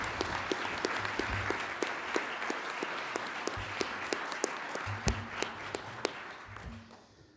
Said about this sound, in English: let's have a round of applause for Dr. Kelly Drew.